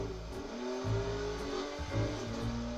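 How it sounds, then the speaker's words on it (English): Engine roar of a racing game played by a desktop toy robot, a steady revving car tone with rising gear-shift sweeps over about three seconds, fairly loud and alone. "Or you can tell Rux to play a racing game."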